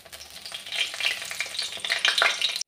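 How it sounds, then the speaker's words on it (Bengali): Dried and green chillies frying in oil with cut potato and tamarind bark, a close, bright crackling sizzle with bursts of spattering over a couple of seconds, no voices. "কাঁচা লঙ্কা শুকনো লঙ্কা দিয়ে ভাজবো"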